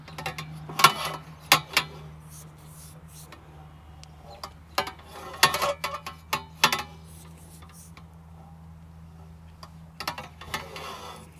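Metal conduit being bent by hand into hoops for garden row covers, heard as scattered creaks, clicks and metallic clanks in short bursts between quiet pauses, close by with no talk.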